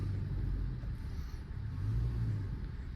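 A 4x4 vehicle with a Freedom locker kit crawls off-road, its engine giving a steady low rumble that swells slightly as it pushes forward, close and continuous with no talking.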